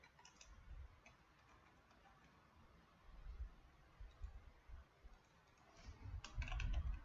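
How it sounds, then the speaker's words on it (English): Someone types on a computer keyboard while filling in a web form. Quiet, uneven key clicks come in short bursts with a few heavier thumps and no talking. "let me type some information here"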